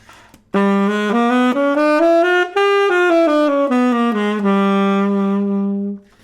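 A solo tenor saxophone plays a smooth ascending and descending half-whole diminished scale, steady and close, sustaining a final low tone before fading.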